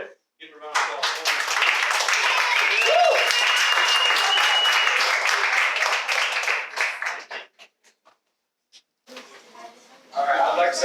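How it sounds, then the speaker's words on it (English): A loud round of applause from an audience, with dense clapping and some cheering that holds for several seconds, then drops away to near silence before speech resumes. "Give him a round of applause."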